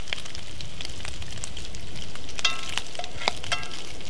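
Bacon fries in butter in a pan with a continuous crackling sizzle and scattered sharp pops and spits, heard up close with no one speaking.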